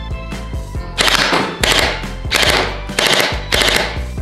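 A toy M1911 water-bead pistol fitted with a grenade-shaped magazine fires in rapid automatic bursts, four loud rattling volleys of about half a second each with short pauses between them, close up.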